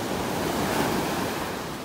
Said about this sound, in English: Look at those waves, man.